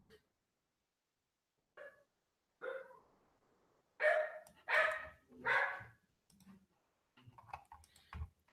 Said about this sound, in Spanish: Perdón, ese es el perrito de mi vecino